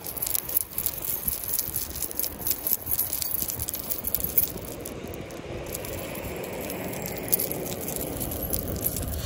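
A keychain clipped onto a ring of keys rattles and jangles steadily for several seconds, a close, bright metallic shimmer with no voices over it.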